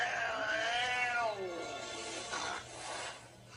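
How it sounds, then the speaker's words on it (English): Several cats meow and yowl in a funny cat compilation being played back, with long wavering cries in the first half that fade into quieter mewing and room noise. "Oh my God, those cats are freaking deadly."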